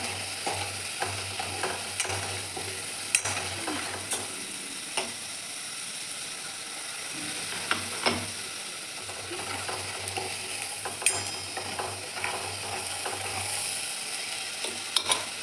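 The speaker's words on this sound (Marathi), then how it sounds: "मसाला व्यवस्थित तळून घ्यायचा आहे." Red chilli powder, turmeric and spice masala frying in oil in a pan as it is stirred, with a steady close sizzle and repeated scraping, clinking strokes of the spoon throughout, no voices.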